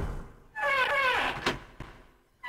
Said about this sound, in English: Without hesitation, Snake opened the door and stepped inside.